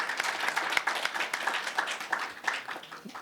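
A forum audience welcomes four returning panelists with steady applause, many hands clapping in a dense, continuous patter that holds at an even level throughout.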